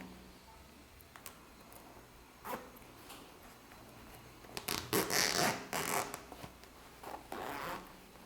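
A zipper slider is pulled along a zipper while sewing a toiletry bag, giving several scratchy zipping bursts that grow louder and closer together toward the end.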